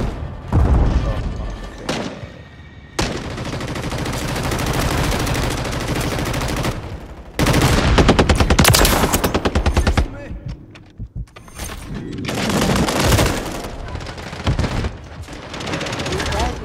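Gunfire from the video game Call of Duty: Modern Warfare 3 on a small multiplayer map: loud, rapid automatic bursts and single shots come in clustered volleys, separated by short lulls throughout.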